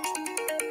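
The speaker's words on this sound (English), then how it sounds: "on that strange ringtone" A strange electronic phone ringtone chirps in a quick repeating pattern of about six bright tonal pulses, loud and close with no talking.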